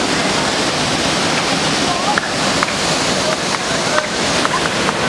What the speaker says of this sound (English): That is Fossil Creek Waterfall.